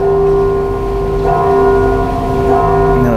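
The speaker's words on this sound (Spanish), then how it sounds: "una de las campanas más grandes de Latinoamérica" A large church bell in Arandas, one of the biggest in Latin America, rings loud and near, its steady tones holding through a dense, sustained hum with no talk.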